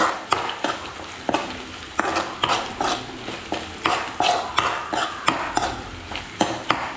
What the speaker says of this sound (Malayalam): കറിവേപ്പില ഇട്ട് നന്നായൊന്ന് ഇളക്കാം